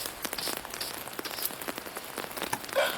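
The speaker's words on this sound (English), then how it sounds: "With this rain and clouds." Rain falling outside on a cloudy, snowy day, a soft steady patter of drops with scattered sharper taps, fairly faint and continuous with no voices.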